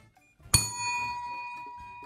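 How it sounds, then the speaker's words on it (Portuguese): A single sharp strike on a quiz desk bell during a game show, ringing out with a bright metallic ding that decays slowly over about a second and a half, close and alone. "eu acho que o meu sino tá com defeito"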